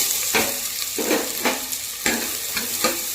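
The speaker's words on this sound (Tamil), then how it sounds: "வெங்காயம் நல்லா வதக்கணுங்க। நல்லா கலர் சேஞ்ச் ஆகி வர வரைக்கும் வதக்கிக்கலாம்।" Three large sliced onions, with cinnamon, cardamom and cloves, sautéing in oil in a pressure cooker, a close, continuous sizzle broken by five or six sharp scraping stirs, with no speech.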